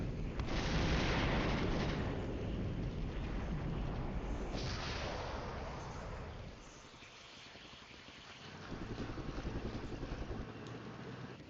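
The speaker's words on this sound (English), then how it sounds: "Corrected artillery fire." Artillery fire explosions in the military strategy game Full Spectrum Command, a roaring rumble of blasts swelling and receding, with a quieter lull before another heavy rumbling burst toward the end, no talk.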